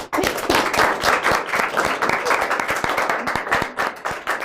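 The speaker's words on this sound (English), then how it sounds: "Please give her a round of applause." Loud applause from an audience at a ceremony, dense clapping with distinct sharp claps throughout, steady and close.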